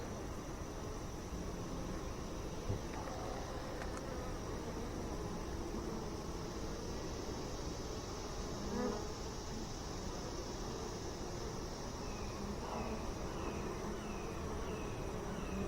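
A dense, steady hum of many honeybees buzzing in an open hive fills the air, soft and continuous with no talking.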